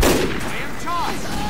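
Gunfire in Team Fortress 2, a sharp loud shot at the start followed by a ringing, decaying tail and some brief tonal game effects, close and dominant.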